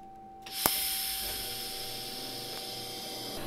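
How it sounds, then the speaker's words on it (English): A TIG welder strikes an arc for a quick blast tack on a 90-degree joint, starting with a sharp click and then settling into a steady, close electrical buzz and hiss, with no talking. "And then I do what's called a blast tack."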